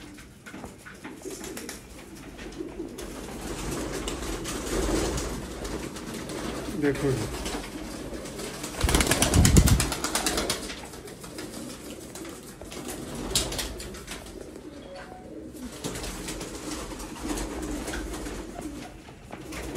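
Pigeons cooing and flying around a rooftop, soft coos and bursts of wing flapping, with a louder flurry of wingbeats midway, while someone talks on and off nearby.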